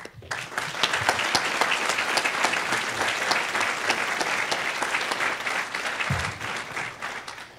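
A college commencement audience breaks into loud, sustained applause welcoming a speaker, the dense clapping holding steady for several seconds before gradually thinning near the end.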